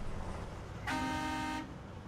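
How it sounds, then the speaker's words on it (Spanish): A Tatra T813 truck horn in SnowRunner sounds one steady, bright honk of under a second over a quiet engine hum, with no other sound near it. "tiene la bocina del Tatra T813"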